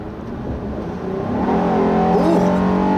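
A 2017 Honda Ridgeline pickup's VTEC engine revs up while driving on the road, a loud, steady engine drone that climbs in pitch and intensity partway through, heard from inside the cab.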